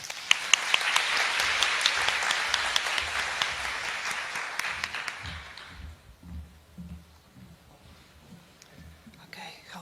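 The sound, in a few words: audience applause welcoming a speaker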